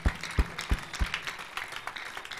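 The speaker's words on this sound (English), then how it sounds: "A big clap offering to Jesus." A church congregation gives a clap offering, with a few sharp claps up front fading into scattered, softer applause at a moderate distance, with murmured voices underneath.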